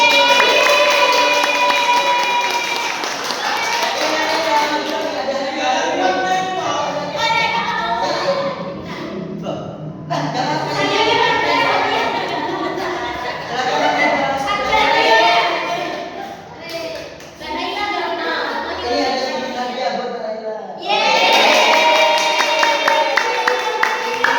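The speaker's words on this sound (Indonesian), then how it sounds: "Oke, tepuk tangan." Schoolchildren in a classroom clap and cheer together, a loud, busy mix of young voices shouting over the applause that runs almost the whole time, dipping briefly near the middle before surging back.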